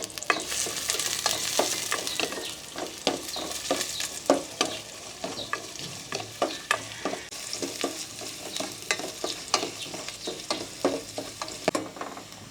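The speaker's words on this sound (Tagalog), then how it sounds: "Start na po tayo mag-gisa para sa ating sinigang na pampano." Aromatics sauté in a hot pan for sinigang na pampano, a constant oily sizzle broken by frequent scraping stirs of a utensil, close and busy throughout.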